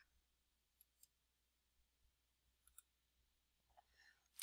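A few sparse computer mouse clicks, sharp and faint against near silence, scattered irregularly with a slightly louder burst of handling at the end.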